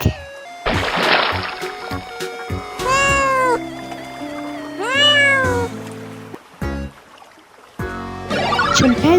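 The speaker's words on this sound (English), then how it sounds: "a cat" A cat meows repeatedly, several clear rising and falling cries with short gaps, close and loud, mixed with toy squeaks and splashing bits in between.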